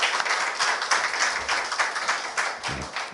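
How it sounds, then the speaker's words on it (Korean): A Korean church congregation at Sunday worship applauds to welcome a returning member, a close, lively patter of many hands clapping steadily for about three seconds with uneven bursts and no talking. "박수로 환영하겠습니다."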